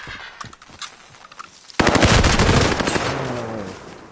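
Video game gunfire opens with faint, scattered shots, then erupts into a loud, sustained automatic burst of rapid shots that carries through to the end.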